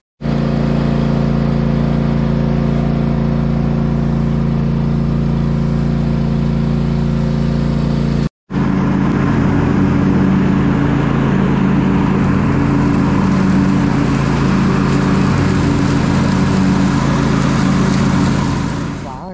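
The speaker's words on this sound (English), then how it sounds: "So, yep, we need to mow this yard." A lawn mower engine drones steadily and loud and close while cutting a yard of tall grass, with a brief cut-out partway through before the engine noise resumes, rougher and denser, as if the blade is chewing through thick growth.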